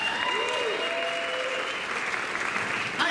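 Audience at an improv comedy show applauds for a few seconds, a steady close wash of clapping with a little cheering, no talk over it.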